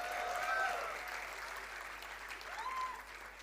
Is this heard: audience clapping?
yes